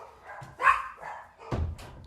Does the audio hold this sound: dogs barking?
yes